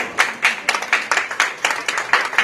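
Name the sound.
audience applause at a business hall of fame event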